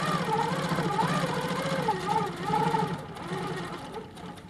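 A Handi Quilter quilting machine hums continuously while stitching along a quilt seam, its motor pitch wavering as it moves, steady and close.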